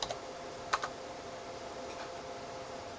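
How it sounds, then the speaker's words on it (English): A few sparse keystrokes tap on a computer keyboard, quiet and close, with a couple of sharper clicks standing out against a soft room hiss, no voices. "I'm going to start typing it in up here"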